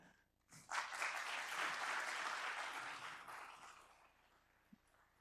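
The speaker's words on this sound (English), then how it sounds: "Applause." A conference audience applauds during closing remarks, the clapping swelling quickly into a broad, sustained wash, then tapering off gradually, faint and somewhat distant overall.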